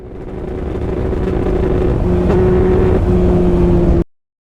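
A motorcycle engine with dirty carburetors runs up close, a loud uneven droning idle that swells slightly, then cuts off abruptly into silence.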